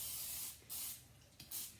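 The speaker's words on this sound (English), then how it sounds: "I'm going to spray it down with a little bit of canola oil" Canola oil sprayed from a can onto raw chicken for a vertical pellet smoker, three short hissing bursts separated by brief pauses, close and fairly loud.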